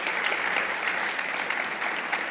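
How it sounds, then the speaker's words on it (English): Audience at a women-in-leadership forum applauding a panel discussion, an even, fairly distant patter of many hands clapping, steady throughout with no voices over it. "may I first have your warm applause for this beautiful panel"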